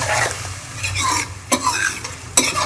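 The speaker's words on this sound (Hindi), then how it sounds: "मैं टमाटर का पेस्ट इसके अंदर डाल दूँगी एंड इसको भी हम अच्छी तरह से मिक्स कर लेंगे मसाले के अंदर।" Tomato paste is stirred into garlic and spices frying for a dhaba-style egg curry: a close, busy sizzle with spoon scraping and two sharp metallic knocks against the pan.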